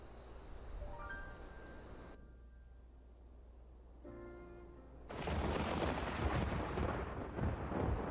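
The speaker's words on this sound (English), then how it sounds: "Thunderstorm." Thunderstorm weather in the Final Fantasy XIV video game: after a soft tonal game chime, a loud broadband rumble of thunder and rain swells in and holds steady, fairly close and alone with no talk.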